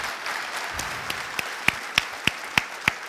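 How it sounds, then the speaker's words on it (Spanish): A conference audience applauds a co-organizer being introduced, with sparse scattered claps at first building into a few sharp, distinct hand claps near the end. "Un aplauso para Lourdes."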